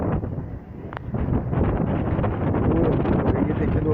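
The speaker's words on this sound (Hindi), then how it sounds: "ये देखिए दोस्तों कैसा कमाल का मौसम है, क्या हवा चल रही है यार।" Strong wind blows outdoors and buffets the microphone in a steady roar that builds after the first second and stays loud throughout.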